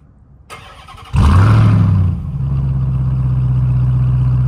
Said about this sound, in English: over on the rear of the bumper, you obviously have your amazing sounding dual exhaust.